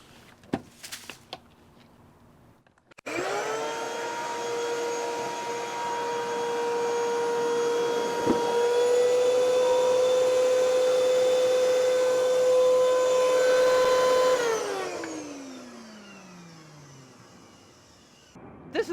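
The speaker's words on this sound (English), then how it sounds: "then we'll start up the vacuum former" A vacuum former for shaping EVA foam starts up with a sudden loud, steady whine and hum, holds at a constant pitch for about eleven seconds, then winds down with a falling tone as it shuts off.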